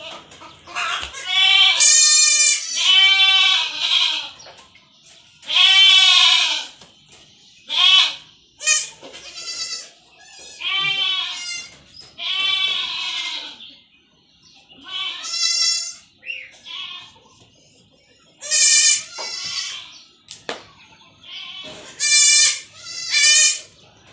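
Two young goats bleat repeatedly during an iron injection, loud close wavering cries in bursts with short pauses between them, over a quiet background.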